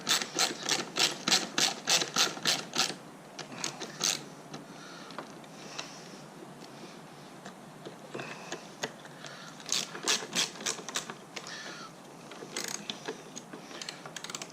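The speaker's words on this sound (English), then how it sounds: "I've got an 8 millimeter socket on my ratchet here." Ratchet with an 8 mm socket turning the bolts that hold the motor of a Kobalt battery lawn mower, heard close up as rapid bursts of clicking, one run at the start and another near the end, with quieter handling between.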